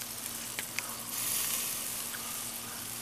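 Soft, faint sizzling of jalapeno cheese sausages cooking, a steady crackling hiss with a couple of small pops, heard alone at low volume.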